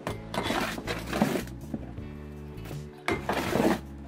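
Used potting compost being stirred and mixed by hand in a garden pot: two bursts of gritty scraping and rustling, near and moderately loud, with quieter handling between them.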